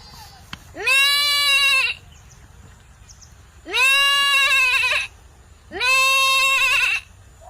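A person mimics a goat with three loud, quavering bleats, spaced a couple of seconds apart and heard up close.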